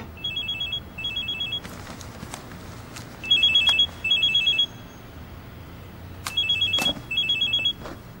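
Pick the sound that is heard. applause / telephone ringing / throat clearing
telephone ringing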